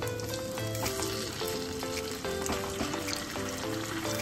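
Food fries in hot oil until it turns light golden brown, giving a close, dense, continuous crackling sizzle that runs evenly throughout with faint bubbling and no voices.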